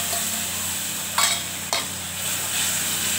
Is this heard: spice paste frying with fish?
yes